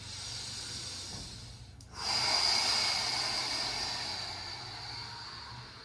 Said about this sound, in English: Breathing all the way in, all the way out.